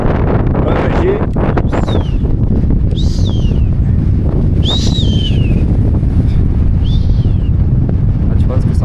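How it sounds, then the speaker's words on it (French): Strong, steady wind roars across an open mountainside in the Alps on the Tour du Mont Blanc trail, buffeting the microphone without a break, while a few thin bird calls chirp faintly through it. "On va voir ce que ça fait le bruit du vent."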